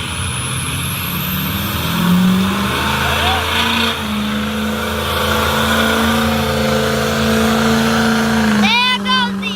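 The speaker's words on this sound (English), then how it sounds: "There goes the yellow truck down the street." A yellow mud truck drives down the street, its engine droning and shifting in pitch as it passes, with a voice talking over it.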